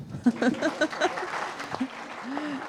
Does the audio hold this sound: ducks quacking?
no